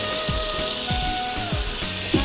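Ribeye steak and veggie fries cooking without oil on an air fryer grill, a steady close sizzle with faint repeated soft taps and a low hum underneath.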